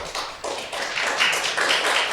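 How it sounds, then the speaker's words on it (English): An audience at a planning commission meeting applauds steadily for a speaker, with a sustained ripple of many hands clapping close by. "Please do not clap for the speaker."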